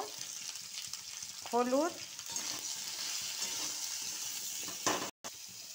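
Vegetables fry in a pan for lau shak chorchori, a bottle gourd greens dish, with a continuous close sizzle and stirring scrapes, and someone speaks briefly over it.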